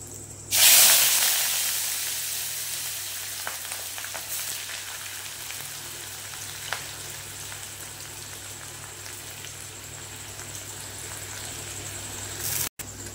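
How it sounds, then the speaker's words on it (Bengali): Chopped onions hit hot oil in a pan for chicken malai curry with a sudden loud sizzle, then keep frying in a steady, even hiss with a few faint clicks, and no one speaks. "এবার বন্ধুরা দিয়ে দেবো কুচিয়ে রাখা পেঁয়াজ"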